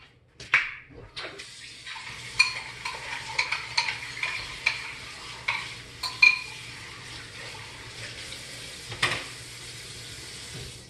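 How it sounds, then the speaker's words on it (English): Chili being heated in a pan, with repeated scraping stirs and light clinks of a utensil against the pan over a soft sizzle, fairly close and steady through the stretch. "Got chili right here. Gotta heat this up."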